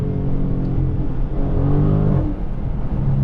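A Dodge Challenger Scat Pack Widebody Last Call pulls hard in low gear, its deep engine rumble rising in pitch, heard from inside the car with no talk.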